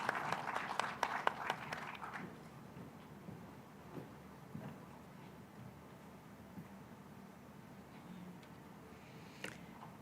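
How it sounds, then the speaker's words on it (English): Audience applause at the Connected Africa Summit in Nairobi, Kenya: a burst of clapping for the first two seconds, then fading to scattered claps and a quiet crowd murmur. "Let's give Her Excellency a warm round of applause as she comes to speak with us"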